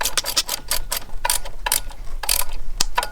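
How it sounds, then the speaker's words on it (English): Rapid ratchet clicks from a 10mm socket tightening the air intake clamp on a Toyota Land Cruiser engine, short bursts of close, crisp ratcheting repeated in uneven runs. "I can tighten that clamp with a 10mm socket"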